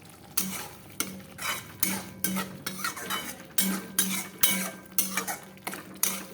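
Fish curry spice paste of ginger, onion and tomato being stirred and fried in a pan: rhythmic scraping strokes of a utensil against metal, about two per second, over a soft background sizzle.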